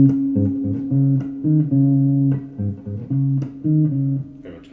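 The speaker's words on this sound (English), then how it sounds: "this bass pattern that you hear for most of the song sounds like this" A low bass line of short repeated notes played on guitar with small pauses, rising and falling in a steady groove, played alone with no voices.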